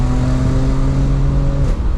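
Audi S4 B8 engine, a 2010 Quattro model, droning steadily at high revs while driving, a loud constant tone that echoes off nearby trees before easing off near the end.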